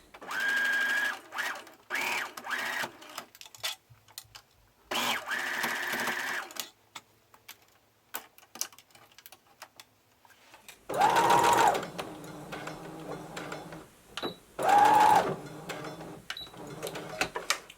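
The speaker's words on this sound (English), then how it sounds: "I'm going to begin sewing, back stitch, and you want to continue sewing until you get to the end and back stitch again" Sewing machine stitching a sleeve seam on a top, running in several short bursts of rapid whirring with pauses between, including quick back stitches, some louder bursts near the end.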